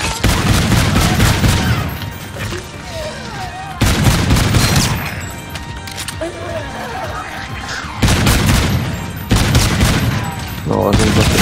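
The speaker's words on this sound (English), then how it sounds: "Yeah, shoot the legs then." Heavy gunfire from the zombies mode of Call of Duty: Infinite Warfare, dense bursts of shots and booms filling the mix while players talk over the action.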